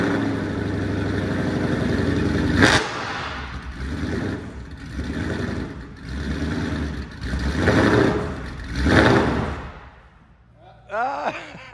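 Porsche car engine with a new clutch revving in a garage, a loud, steady engine drone rising and falling in repeated surges before cutting out, with a voice speaking at the end.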